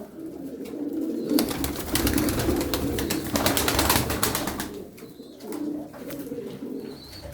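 Misk pigeons coo in a feather-strewn coop, a pair with the hen perched up high and the cock displaying below, their low throaty cooing rolling steadily and close throughout, with faint chirps above.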